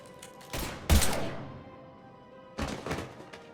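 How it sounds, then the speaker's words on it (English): Gunfire in Mass Effect 3: Legendary Edition comes in two short bursts of sharp, punchy shots, the first heavier with a thudding impact, separated by a quieter gap where the echo decays. "Now open fire!"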